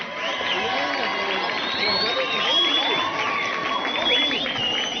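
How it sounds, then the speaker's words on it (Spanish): Warm applause from a school crowd at a freshman pageant welcoming the newly crowned queen, steady clapping mixed with cheers and whoops, with an announcer's voice running over it. "Recibámonos con calurosos aplausos."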